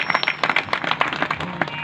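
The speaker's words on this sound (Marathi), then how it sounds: "एकदा त्यांच्यासाठी जोरदार टाळ्या वाजवा।" An audience at a kirtan gathering in Rajesh Nagar, Chhatrapati Sambhajinagar claps, a steady patter of many hands, moderately loud and continuous throughout.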